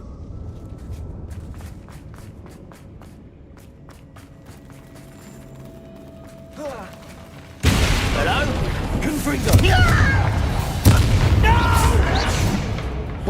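A Bombarda blasting spell erupts inside an abandoned mine in the video game Hogwarts Legacy. Quiet footsteps and ambience give way to a sudden loud, close explosion that rolls into sustained rumbling chaos with further heavy bursts.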